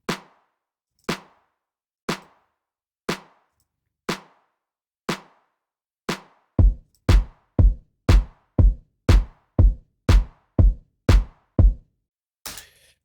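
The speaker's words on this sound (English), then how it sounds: "it's a clap from this 909 core kit from Ableton Live" Layered snare and 909 clap from the Ableton Live core kit, first as single clap-like hits spaced about a second apart, then as a faster run of punchier layered hits with added low thump, dry and isolated.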